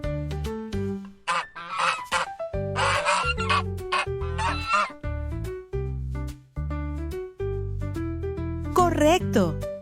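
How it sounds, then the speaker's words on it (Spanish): A goose honking in a loud series of harsh, nasal calls, a dozen or more in uneven rhythm, close and clear with no talking over it. "Correcto, es el ganso."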